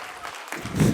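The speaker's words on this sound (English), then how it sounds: "Stand and give a big round of applause." Applause from an audience at a children's annual day celebration, a brief wash of steady clapping that swells slightly toward the end, with no clear voices over it.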